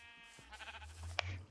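A sheep bleats once in a video game with a wavering, quavering cry, faint and brief, with a small click near the end.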